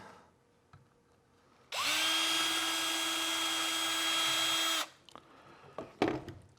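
A power drill boring a hole runs at a steady high whine for about three seconds, close and loud, with quieter handling clicks and knocks before and after.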